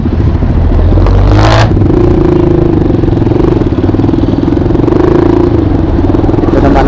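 A motorcycle engine runs loud and close, rumbling steadily with a brief rev and some rattling clatter, no speech over it.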